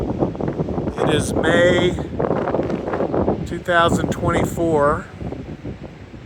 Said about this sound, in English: Welcome to what seems to be the windiest place on earth right now.